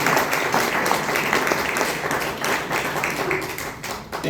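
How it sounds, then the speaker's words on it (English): An audience at a talk on data center environmental impacts claps together, a dense burst of applause that swells and then tapers off near the end. "let's give him a round of applause"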